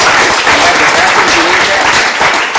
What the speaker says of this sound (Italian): un bel applauso lo merita